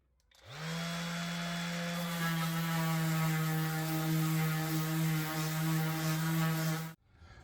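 An electric sander works over joined and filled wood for a coaster and biscuit tray, giving a steady, loud motor drone that starts abruptly, holds evenly for about six seconds and then cuts off, with no talking.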